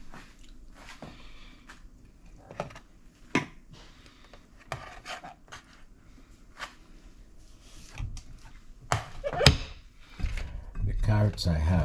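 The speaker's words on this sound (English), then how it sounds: "I'm going to just cut these carrots, cut them in half." A kitchen knife cuts carrots in half on a board, giving scattered sharp crunches and knocks amid quiet handling, with heavier clatter near the end.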